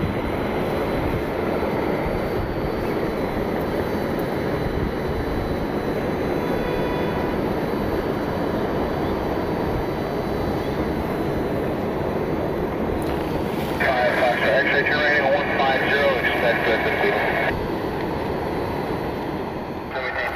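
Jet airliners taxiing at Cleveland airport make a loud, steady engine roar that fills the whole clip, with a brighter whine rising briefly toward the end and some talk over it.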